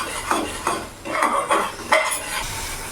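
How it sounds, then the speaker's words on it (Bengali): Spices for aloo dum are stirred and sautéed in a pan, a spoon scraping in rhythmic strokes about every half second over a soft sizzle, close and fairly loud. "এখন ভালো করে কষে নেবো যতক্ষণ না মশলা থেকে তেল ছেড়ে দিচ্ছে"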